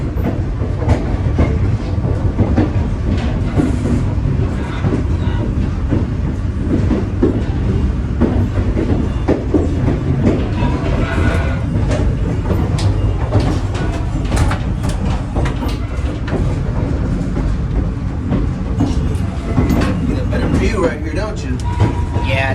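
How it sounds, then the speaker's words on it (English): A Christmas excursion train in Indiana slows on the tracks, giving a steady loud rumble of wheels and cars with a few rhythmic clacks, while people talk over it. "why the train is slowing a little"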